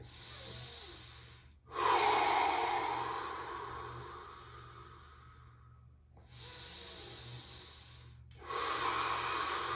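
Heavy, forceful breathing while holding a yoga bridge pose: long, loud, close hissing breaths through the mouth, one sustained exhale followed by further strong breaths after a short pause, with no talking.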